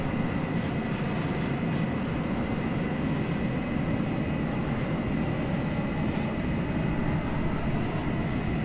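A Lockheed F-104 Starfighter taxiing in a flight video game gives off a steady, unbroken engine roar and rumble with a faint high whine, constant in level throughout, no voices.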